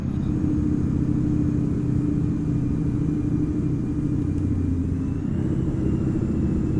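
A heavy truck engine in Euro Truck Simulator 2, hauling 39 tons, drones at low pitch with a steady rumbling engine brake, continuous and even, with no talking.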